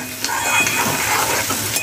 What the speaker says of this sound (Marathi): चला आपण कांदा चांगला असा भाजून घेऊया.